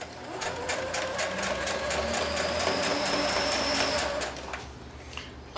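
A sewing machine stitches steadily through denim while jeans are altered into shorts, a continuous close, loud whirring run that stops near the end.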